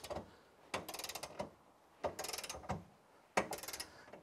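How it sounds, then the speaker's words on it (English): Ratcheting clicks of a torque wrench tightening the drawdown bolt on an Andersen Ultimate hitch, three quiet bursts of rapid clicking separated by short resets, close and faint. "So what we're doing is just torquing this down."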